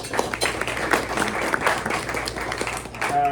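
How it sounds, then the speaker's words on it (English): An audience at a press luncheon applauds with steady, dense clapping that carries on for a few seconds at moderate volume. "Let's give them a round of applause."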